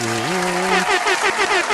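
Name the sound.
clapping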